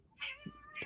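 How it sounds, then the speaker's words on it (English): A house cat gives a short, faint meow under a podcast recording, a brief rising-and-falling cry lasting under a second. "You got a cat there?"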